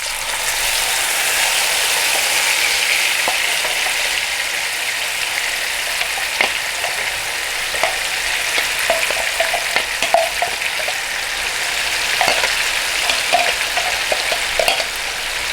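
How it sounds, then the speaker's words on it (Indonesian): Spice paste for Manado chicken rica rica sizzles and crackles in hot oil, a continuous frying hiss with occasional scraping stirs of a utensil against the pan. "Kita tumis bumbunya."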